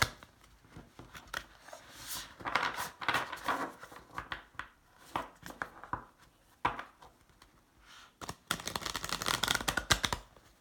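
Tarot cards being shuffled by hand, repeated bursts of papery riffling and slapping in irregular clusters, close and fairly crisp, with a louder busy flurry near the end and no talking.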